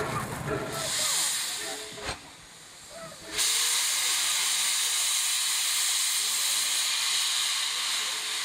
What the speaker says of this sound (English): This hissing sound comes from condensed water in the cylinders, which may take a minute or two to be discharged